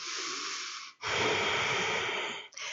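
Deep, steady breathing during a morning yoga stretch, with one long, loud, airy inhale-exhale close to the microphone, then a brief pause and another breath starting.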